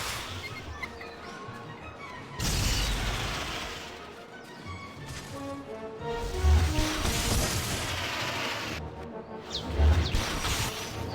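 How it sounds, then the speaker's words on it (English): A spell cast in a Harry Potter wizard-duel video game, with loud magical blasts and crashing booms. Two heavy impacts stand out amid layered ringing effects and music, with no talking. "Stupefy!"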